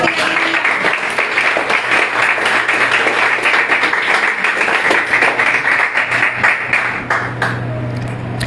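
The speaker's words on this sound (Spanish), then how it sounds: "Den un aplauso al Señor." A church congregation applauds together, a steady dense wash of clapping hands lasting several seconds at an even level, with a faint low hum underneath.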